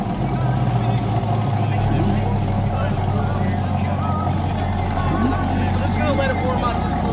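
A Corvette exhaust idles while warming up at a car meet, a steady low rumble, while voices chatter faintly underneath.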